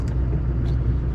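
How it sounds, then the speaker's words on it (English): Old diesel truck engine idling after warming up, a steady low rumble heard alone and close for a brief moment. "I got this old beater warmed up. Fun joys of diesels."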